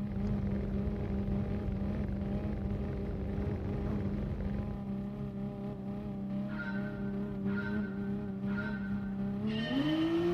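Race cars rumble off the start at the Red Bull Ring in Gran Turismo Sport, a loud, steady engine drone with rising tonal whines, and near the end one engine revs sharply upward.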